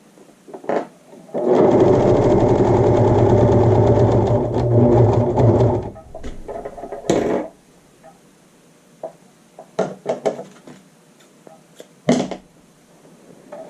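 Home overlock serger running on a fabric swatch, a loud close buzzing burst of about four seconds, then scattered clicks and handling knocks in a quiet room.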